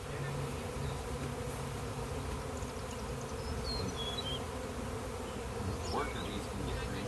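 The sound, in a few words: honey bee swarm buzzing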